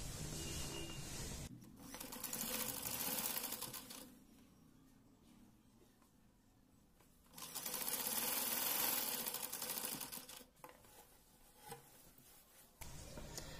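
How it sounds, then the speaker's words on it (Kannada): A sewing machine runs along the edge of a long gown made from an old saree. It sounds soft and distant, in two short runs of a few seconds each with a quiet pause between. "ಈಗ ಇನ್ನ ಒಂದ್ ಸೈಡ್ ಕೂಡ ಎಡ್ಜ್ಗೆ ಒಂದು ಸ್ಟಿಚ್ ಅನ್ನು ಹಾಕೊಳ್ಳೋಣ"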